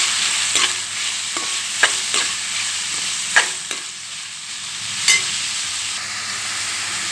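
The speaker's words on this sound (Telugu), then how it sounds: "ఇప్పుడు ఆనియన్స్ ముక్కలు వేసుకోవాలండి" Chopped onions frying and sizzling in a pan while being stirred for Kodad-style uggani baji, a steady close sizzle broken by scraping spoon strokes, no voices.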